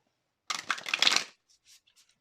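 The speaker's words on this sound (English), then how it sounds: "I would like to draw 3, okay, 3 Moonology cards." Moonology oracle cards are shuffled in a short, crisp riffling burst lasting under a second, followed by a few faint card flicks, close and alone.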